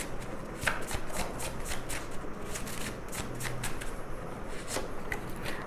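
Tarot cards shuffled by hand up close, a steady series of soft papery flicks and slaps in a loose rhythm, continuing for several seconds without any voice.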